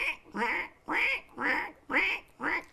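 A performer's voice imitates a croaking frog in a rhythmic series of six loud, nasal croaks, each about a third of a second, evenly spaced and close to the mic.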